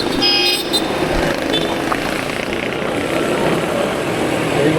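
Busy Bangkok street traffic with a Yamaha X-Max scooter, a steady dense wash of engines and road noise throughout with a brief horn toot near the start.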